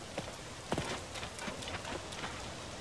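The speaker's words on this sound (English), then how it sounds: "It's bloody rain, I can't even..." Rain falls in the video game Zelda: Tears of the Kingdom as a soft, steady hiss with scattered light patters. It stays quiet and even throughout, with no voices.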